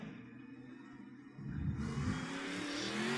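A race car engine in a racing video game at Knoxville revs up sharply after a quieter stretch of hum, whining higher as it accelerates, loud and continuous.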